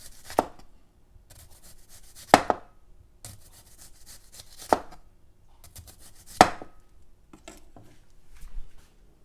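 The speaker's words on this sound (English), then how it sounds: "Now I'm going to just run the knife blade through the onion slices." A knife blade cuts through sliced raw onion on a cutting board as a topping for palomilla. Four distinct, evenly spaced chops land about two seconds apart, with quieter rubbing and scraping of the blade between them.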